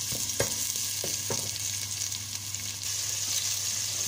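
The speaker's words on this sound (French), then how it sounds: "Je mets un peu d'oignon. Je vais laisser griller un peu." Onion frying in a pan gives a loud, continuous close sizzle, with a few light stirring taps near the start and no talking.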